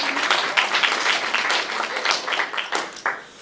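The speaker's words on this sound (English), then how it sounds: "Would you please give a round of applause" An audience applauds at a criminal justice reform event, a dense burst of many hands clapping that fills the whole stretch before easing off at the end.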